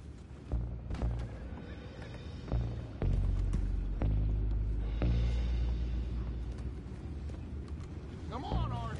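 Horses whinny and neigh in the Western video game Red Dead Redemption 2, mixed with rumbling hooves and a low throbbing hum, while voices talk over the scene.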